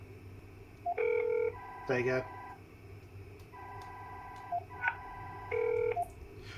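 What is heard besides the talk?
DTMF dialing tones on a BT analog phone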